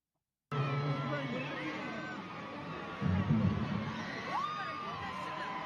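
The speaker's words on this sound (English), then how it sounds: "And then sisters cheering in the background." Women cheer, whoop and scream in the background amid a lively, crowded hubbub, rising in a louder burst partway through, with steady crowd noise throughout.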